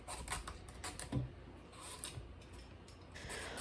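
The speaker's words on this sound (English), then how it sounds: "I'm going to peel this zucchini because it was so hard to cut." Faint, close scraping and rasping of a peeler working over the tough skin of a large zucchini, in short uneven strokes with small clicks.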